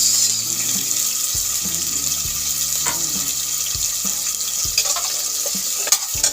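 Garlic, onion and tomato sauté in a pan for a Filipino mussel dish, ginisang tahong, with a constant sizzle and repeated utensil scrapes and knocks against the pan.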